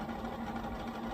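A sewing machine runs steadily while stitching fabric, giving a close, continuous mechanical hum with a faint rapid vibration throughout the short moment.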